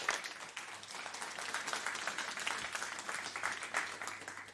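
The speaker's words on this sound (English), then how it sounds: "Give a big round of applause for the panel." Applause from the audience of a marine multi-use side event, welcoming a panel; steady, dense clapping that holds moderately loud for the whole stretch.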